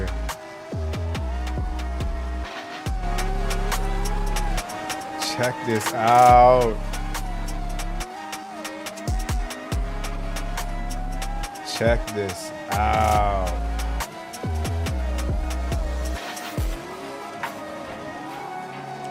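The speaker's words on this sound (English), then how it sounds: "And so you've got a drift car." A drift car's engine revs and rises in surges amid loud music-like tones, with people talking over it throughout.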